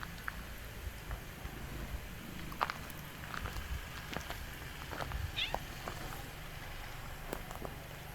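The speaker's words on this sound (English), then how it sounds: "He's joining in with the kittens." A cat meows briefly now and then alongside kittens against a steady low background hum, with faint scattered taps and rustles; the calls are soft and somewhat distant.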